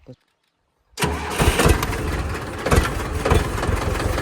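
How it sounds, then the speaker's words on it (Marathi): After a brief quiet moment, a Mahindra tractor engine cranks and roars to life close by, then settles into a loud, rumbling idle with rhythmic chugging. "आता ट्रॅक्टर चालू करून घेतला आहे"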